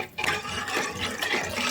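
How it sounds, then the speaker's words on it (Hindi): Water pours steadily into a pot of potatoes in a home kitchen, a close, continuous splashing rush that swells in bursts, with no talking. "अब मैं इसमें बस पानी डालने वाली हूँ"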